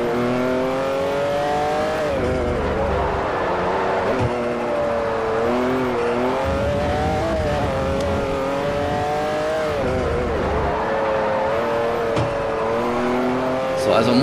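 A Ferrari F430 race car engine in Forza 4, rising and falling through revs and gear changes on the last lap of a circuit race, loud and steady throughout with someone speaking German over it.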